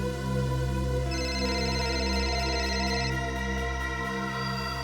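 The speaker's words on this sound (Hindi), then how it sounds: "सर, किसी शेफाली का फोन था।" A phone ring tone chirps steadily over a low constant hum, a bright repeating electronic tone holding for a couple of seconds before fading.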